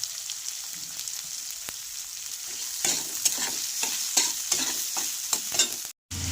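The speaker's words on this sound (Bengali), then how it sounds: "পেঁয়াজগুলো লাল লাল করে ভাজা হয়ে গেছে" Onions and green chillies fry in oil, a bright steady sizzle with a run of sharp scraping stirs in the second half and a brief dropout near the end, no voices.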